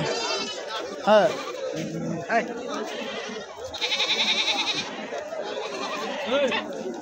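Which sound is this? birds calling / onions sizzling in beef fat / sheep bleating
sheep bleating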